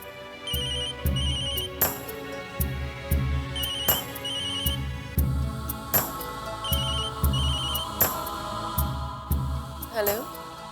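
A mobile phone left behind rings with a repeating electronic ringtone melody, bursts of tones cycling steadily over a rhythmic low beat, fairly loud and close with no talking.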